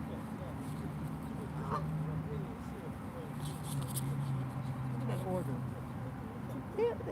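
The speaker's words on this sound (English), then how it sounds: "those damn ducks" Ducks out in New York City give a few scattered quacks and honks, faint and a little distant, over a continuous street hum while people talk nearby.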